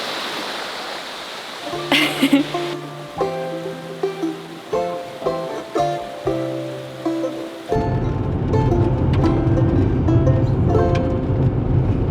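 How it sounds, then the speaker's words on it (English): Steady broadband rush of a Finnish waterfall fills the scene, with music playing over the first few seconds before the roar takes over alone. "This is the first Finnish waterfall I've ever seen"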